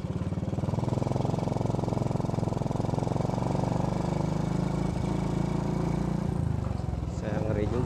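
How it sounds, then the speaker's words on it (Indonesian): A motorcycle engine sputtering while riding makes a close, steady, rough mid-pitched drone that runs the whole time, thinning slightly near the end. "motornya agak berebet deh"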